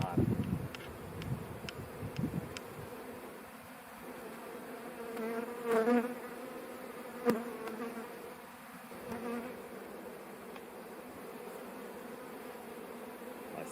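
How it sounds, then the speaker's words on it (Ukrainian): Many bees hum in a soft, steady drone during a May honey flow, with brief louder buzzes as individual insects pass near, and light wind in the background. "І бджоли повно. І гарно працюють."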